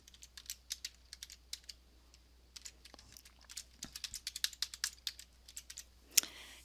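Fingers type a login ID and password on a computer keyboard, a quick run of light, close key clicks in uneven bursts ending with a sharper final keystroke, over a low steady hum.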